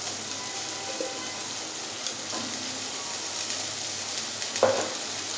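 Ginger garlic paste frying in a pan with onion and tomato for a stuffed karela chicken dish, a steady close sizzle with a few faint stirring clinks.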